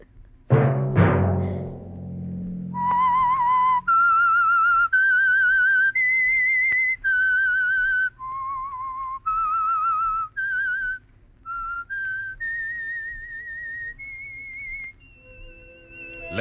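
A whistled melody of clear, sustained tones climbs and falls alone after a sharp opening bang, serving as the signature signal for the Signal Oil radio mystery program The Whistler.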